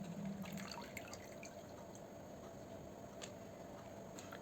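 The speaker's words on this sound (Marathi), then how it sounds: "पाणी नितळून घेऊ आपण कारल्यांचं." Water drips and trickles from freshly washed bitter gourds left to drain, a faint patter of scattered small drops over a quiet background.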